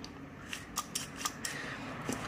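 Snips of a stiff recoil spring from an airsoft ICS gearbox being cut, several sharp close metallic clicks spaced irregularly over a quiet room background.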